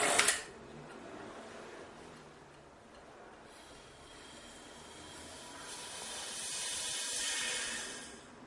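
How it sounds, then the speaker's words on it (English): Air hisses steadily into a homemade vacuum chamber through a freshly opened valve, a broad rushing noise that swells gradually toward the end, with no voices over it. "Now I open the air valve and let air into chamber."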